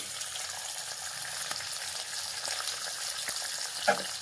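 Large-cut onions fry lightly in a pan alongside dried red chillies, giving a soft, continuous sizzle with occasional stirring clicks near the end, close but fairly quiet and without speech.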